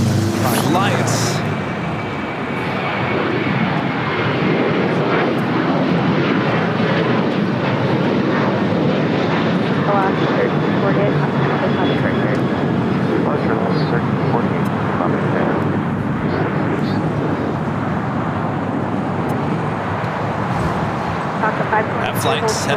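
An Alaska Airlines Boeing 737-900ER taking off at LAX, a loud sustained jet engine roar that holds steady throughout, with someone talking over it.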